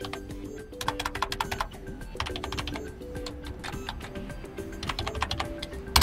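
Rapid, uneven clicks of keys being tapped on an HP ZBook Firefly 14 laptop keyboard as a password is entered, close and moderately soft, running steadily with brief pauses between bursts.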